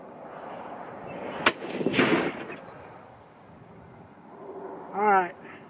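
A single sharp .243 Winchester rifle shot with a 95 grain load cracks out loud and close, then a faint rumbling tail follows. A brief whistling sound comes near the end.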